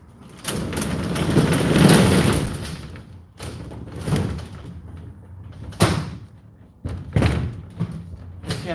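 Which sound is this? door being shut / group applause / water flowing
door being shut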